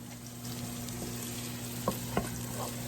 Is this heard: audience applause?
no